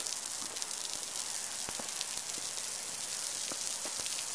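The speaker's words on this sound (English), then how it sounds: "It's raining incredibly hard in San Francisco right now. I'm just kidding, something went wrong with the sprinklers." Malfunctioning outdoor sprinklers in San Francisco spray water with a dense, steady hiss like heavy rain, broken by scattered sharper drops and splashes throughout.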